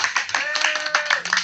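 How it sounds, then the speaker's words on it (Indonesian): An indoor audience claps in quick, rapid bursts while a voice talks over the clapping. "Oke, boleh tepuk tangannya."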